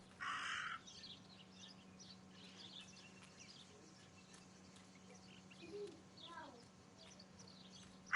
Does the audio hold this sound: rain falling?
no